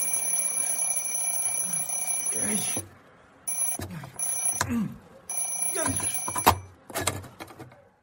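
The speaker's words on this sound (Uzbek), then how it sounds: "Soatning qattiq jiringshgan ovozdan cho'chib," An alarm clock rings loudly in long bursts, broken by short pauses, and under it come a jolting thud and some rustling.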